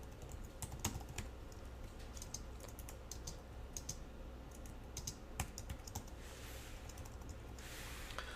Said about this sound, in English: I start typing the next line of code